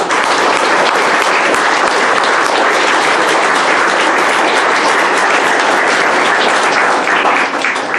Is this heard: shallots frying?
no